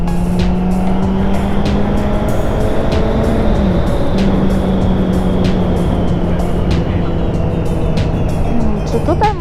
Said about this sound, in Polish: I bajkowo wyjeżdża mi auto.